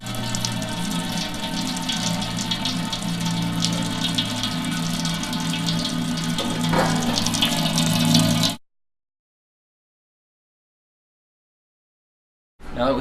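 During home brewing, wort recirculates through the grain bed as a steady, close splashing pour of liquid lasting about eight seconds, then cuts off into silence before resuming briefly.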